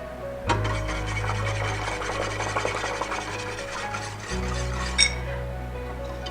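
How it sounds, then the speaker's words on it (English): A whisk stirs heavy cream into a lobster mac and cheese sauce, making a continuous close scraping and swishing against the pot over a low hum, then easing off with one faint clink near the end. "now we're going to stir in the heavy cream"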